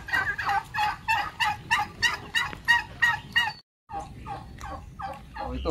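Young turkeys gobble repeatedly in a rapid rhythmic series on a farm, loud and close, with a brief pause before more gobbling resumes.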